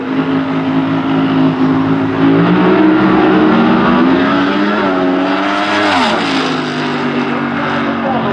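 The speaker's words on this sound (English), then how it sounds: "Revs up on that twin-turbo car, and he rolls through." A twin-turbo drag racing Funny Car engine roars loudly and continuously at a dragway, its pitch rising and dipping as it revs, then surging sharply near the end.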